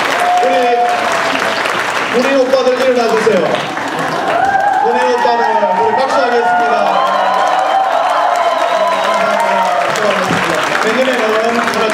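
A church youth group congregation applauds loudly and continuously with some cheering, while someone talks over the clapping throughout.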